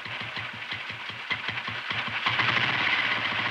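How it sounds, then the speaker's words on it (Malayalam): A motor runs steadily with a regular low thumping rhythm at first, then grows louder and rougher after a couple of seconds, close by, with no talk. "ഈ മോട്ടോർ ഒന്ന് ഓടിച്ചു എന്ന് വെച്ച് നിനക്കെന്താ?"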